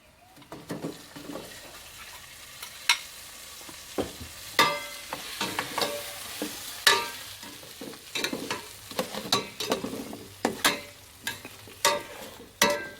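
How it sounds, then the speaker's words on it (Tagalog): Native chicken pieces sizzle and fry in a pot for a macaroni soup, with a steady hiss broken by repeated sharp scrapes and clinks of a utensil stirring, close and fairly loud, no talk. "Lagyan na po natin ng native chicken."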